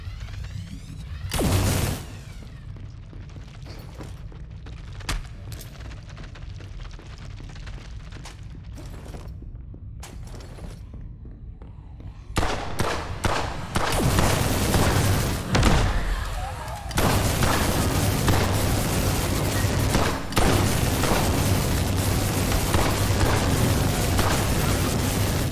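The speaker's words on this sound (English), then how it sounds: "I guess this is a psionic gun" A psionic gun in Blackout Protocol fires in heavy booming blasts, first sparse and isolated, then a dense, loud barrage of rapid impacts in the second half.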